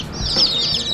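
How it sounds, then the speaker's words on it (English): Chickens cluck and cheep softly close by in a brief burst of high, chirpy calls over low background rumble. "Here are your chickens."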